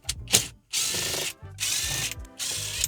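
Screws are backed out of Hyundai Sonata dashboard trim with a power driver or ratchet, giving three close, loud bursts of mechanical whirring and clicking separated by brief pauses.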